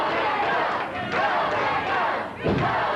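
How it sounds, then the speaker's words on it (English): A small studio crowd at a 1984 Championship Wrestling TV taping cheers and yells for the King: a dense roar of voices rises and falls continuously, with a brief dip and then a fresh surge of shouting near the end. "Everybody in Championship Wrestling studio here is cheering for the King."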